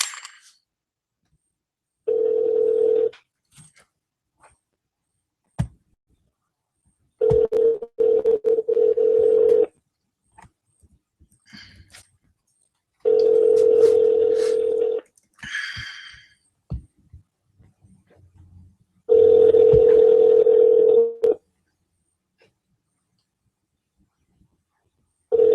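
Outgoing phone call to a guest on a live radio-style show, with four long evenly spaced ringback tones of about two seconds each separated by silent gaps, plus a few faint clicks between rings.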